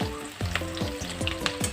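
Onion added to browned potatoes in hot oil for a turkey meat curry, giving a steady sizzle with a repeated scrape of stirring about every third of a second, close and alone.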